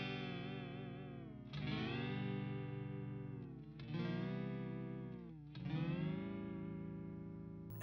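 An electric guitar with heavy distortion and chorus effects strums the same chords over and over, each chord ringing out loud and sustained before the next is struck, about every two seconds.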